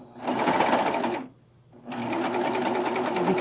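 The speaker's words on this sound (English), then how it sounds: "our Baby Lock sergers cut from below, so the blade is not cutting from above, it's cutting from below" A Baby Lock serger runs fast while sewing a quilted jacket, a steady close whirring that stops for about half a second and then starts again, with no talking.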